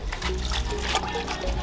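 Water runs and splashes while beans leaves are washed for a Ghanaian soup, a steady continuous pour and slosh heard close up throughout, with no talking.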